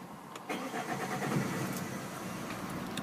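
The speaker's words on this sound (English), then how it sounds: "The car does start perfectly fine with" A blue Vauxhall Vectra SRI CDTI diesel estate with 146,780 miles cranks and fires after a brief pause, then settles into a steady, moderately loud diesel idle.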